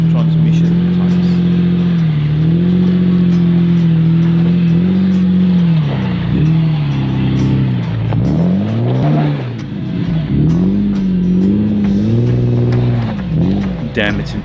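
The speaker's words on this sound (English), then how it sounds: "it's impressive watching these Jeeps climb obstacles" Manual-gearbox Jeeps climb 4x4 obstacles on the Tierkloof trail, their engines droning loud and close, the pitch repeatedly rising and dipping as the revs surge and ease.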